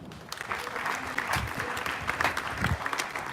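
Steady applause from an audience, many hands clapping continuously with a few louder bursts.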